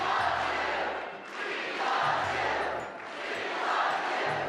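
A large crowd at a Trump rally cheers and roars in broad, sustained waves that swell and dip, heard from a distance with a low hum underneath.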